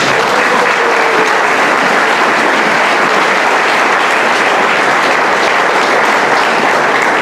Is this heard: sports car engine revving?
no